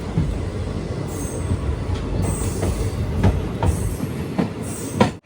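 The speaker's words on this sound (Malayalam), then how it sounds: "12:15 ട്രെയിൻ ഇതാ തുമക്കുറു സ്റ്റേഷനിലേക്ക് എത്തുകയാണ്" Express train rolling into Tumakuru railway station: a loud, steady rumble of wheels on rails with rhythmic clicks and thin high wheel squeals, heard close from inside a general-class coach, no talk.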